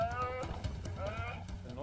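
An aardvark gives a deep bleating call: a few low, wavering, moan-like cries in quick succession over a rough, noisy background.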